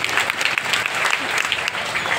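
Dense, steady applause from a live audience fills the whole stretch, many hands clapping at once with no break and no talk on top.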